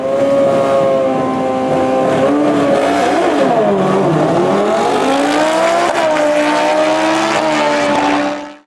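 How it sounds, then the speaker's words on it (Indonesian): A racing motorcycle engine revs loudly and close by, its pitch dipping and climbing in sweeping waves across several seconds before cutting off at the end, with no talk over it. "Di sini ada motor balap."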